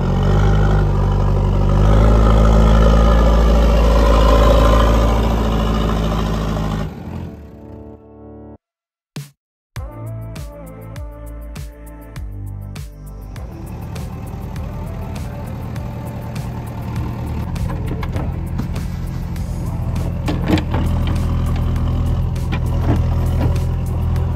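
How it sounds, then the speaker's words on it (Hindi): Vehicles, including a Mahindra Bolero Camper 4x4, straining to get free in heavy snowfall: loud, close engines rumble and rev with truck-like tones, then a brief cut, after which the revving and idling resume. "गाड़ी को निकालने के लिए इतना स्ट्रगल हो रहा है।"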